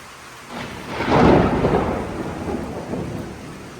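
Heavy rain pouring steadily while a loud thunder rumble swells after half a second, peaks and slowly rolls away beneath the downpour.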